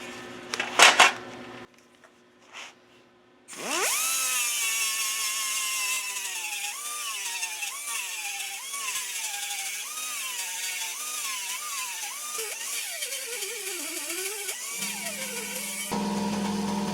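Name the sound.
sanding disc grinding down a motorcycle fender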